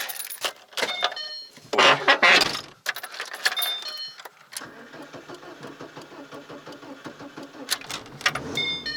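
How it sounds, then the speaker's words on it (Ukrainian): Morning start of a VAZ 2110 car engine: keys jangle, the starter cranks briefly, then the engine catches and settles into a steady, moderately loud idle, heard close and alone. "Утренній запуск десятки."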